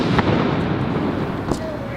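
Fireworks go off in two faint, distant pops, spaced over a second apart, under a constant noisy background.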